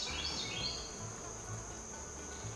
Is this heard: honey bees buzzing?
yes